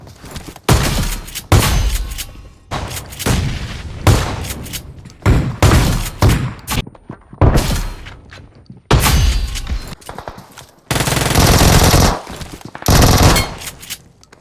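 In the mobile game BGMI, a pump shotgun fires a series of loud, sharp blasts, each separated by a mechanical pump-action clack and brief pauses, with one longer sustained burst near the end.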